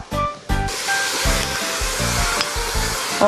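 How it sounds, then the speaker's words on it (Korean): Beef in a pot for Korean beef seaweed soup sizzles loudly as seaweed is added. A constant hissing fry is broken by repeated thumping knocks from stirring. "이렇게 하얗게만 되기만 하면 바로 또 이때 이제 미역을 넣어주도록 할게요"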